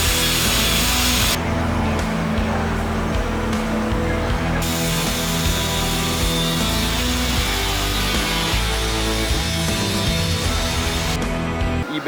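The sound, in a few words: cutting the OEM BMW radiator support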